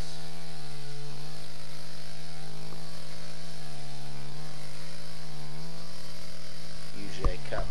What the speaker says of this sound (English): Right now I'm using a chainsaw to cut through the thick